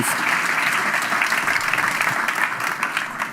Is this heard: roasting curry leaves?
no